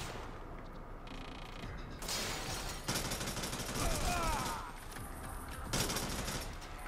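Gunfire bursts from Devil's Third come in loud, dense volleys during a boss fight, separated by short lulls, with a player talking at times under the combat noise.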